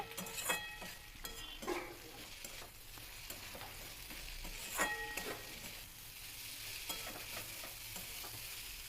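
Potatoes being stirred into chicken mince frying in oil over a raised flame, with a steady quiet sizzle and repeated scraping and clinking of a spatula against the pan.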